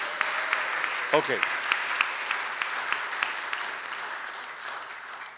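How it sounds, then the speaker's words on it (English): Churchgoers at a Sunday service applaud in a moderate, steady round of clapping with a few distinct claps standing out, while a voice briefly speaks near the start. "Now you can clap for these two."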